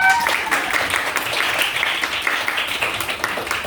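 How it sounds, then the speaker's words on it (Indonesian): A classroom of students applauds a presenting student group, a lively burst of clapping that carries on for several seconds with a few faint voices mixed in. "silakan kita berikan tepuk tangan yang meriah"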